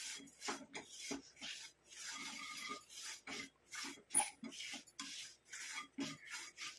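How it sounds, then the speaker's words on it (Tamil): Amla gooseberry powder stirred while roasting in a pan makes faint, close scraping and rasping strokes in an uneven, repeating rhythm, without any talking. "நல்லா இந்த மாதிரி மிக்ஸ் பண்ணிகிட்டே இருந்தீங்கன்னா தான் உங்களுக்கு கட்டி தட்டாமல் இருக்கும்."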